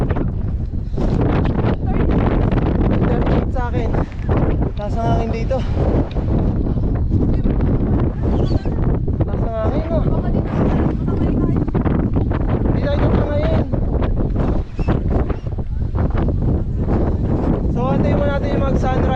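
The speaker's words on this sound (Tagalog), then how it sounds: "Mas malakas ang hangin eh." Strong wind buffeting the microphone on a mountain summit at night before sunrise, a loud constant roar that continues under someone speaking almost the whole time.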